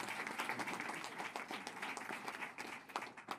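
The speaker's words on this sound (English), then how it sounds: "And I want a round of applause for Governor Shapiro." Audience applause for Governor Shapiro at an education press conference in Pennsylvania, a steady wash of clapping from a modest crowd lasting the whole moment.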